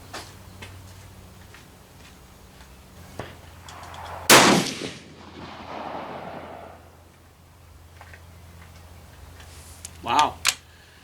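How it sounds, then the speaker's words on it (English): A rifle fires at an outdoor range, a single sharp loud shot followed by a decaying echo, with another short crack near the end and faint background clicks. "See if we can make it a 5-shot group here."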